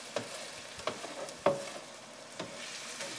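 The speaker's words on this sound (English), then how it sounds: "You want to make sure that the onions cook really well." Onions for saag paneer frying in a pan, a quiet continuous sizzle broken by several sharp scraping stirs of a utensil against the pan, close up with no talk.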